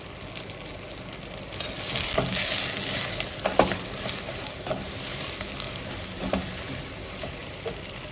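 Zucchini sautéing in a pan with salt and pepper makes a moderate, continuous sizzle, broken by a few sharper scrapes and stirs.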